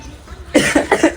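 Four quick, loud coughs ring out close by in a tight cluster after a short quiet lead-in, with no talking.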